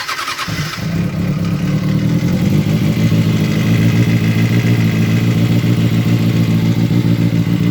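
Kawasaki ZX6R engine idling steadily after a quick start, with a continuous close mechanical rattle and rapid ticking from a worn cam chain tensioner, loud and alone.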